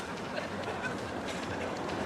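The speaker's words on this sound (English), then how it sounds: "Wait a minute, this is our train." A train rolls past continuously, a dense rumbling wash of wheel and carriage noise with faint clattering, moderately close and steady throughout.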